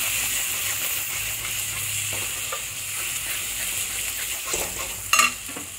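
Spice masala for egg curry cooked down in oil, a soft, steady sizzle and hiss with occasional stirring scrapes, ending in a brief louder clatter of the spoon against the pan, with no talking.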